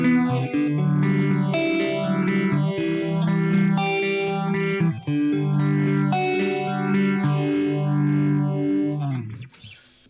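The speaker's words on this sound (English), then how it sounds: "Exactly what you'd expect from a T-style guitar, really" Electric T-style guitar made from almost no wood, played through chorus and distortion effects: a steady sequence of sustained, shimmering chords, loud and close, fading out at the end.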